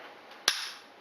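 A single sharp crack from a bolt-action rifle, one brief loud report with a short decaying tail over quiet background hiss.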